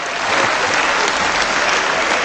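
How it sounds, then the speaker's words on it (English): Dense, sustained applause fills a parliament chamber after a speech, a broad steady roar of many hands clapping at once, loud and close throughout. "that's the first time I've ever received such applause"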